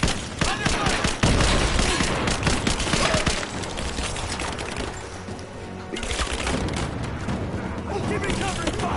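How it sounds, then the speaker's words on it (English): Dense video game gunfire fills the scene, with rapid bursts and fusillades, near and loud, easing briefly and then resuming, while in-game voices shout over the shooting. "Give me covering fire!"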